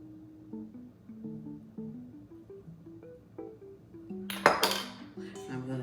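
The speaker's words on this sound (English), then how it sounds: "I'm gonna just mix that and really coat them cherry tomatoes really good" A utensil stirs cherry tomatoes with garlic and olive oil in a bowl, giving a brief cluster of clinks against the bowl midway, heard over soft background music.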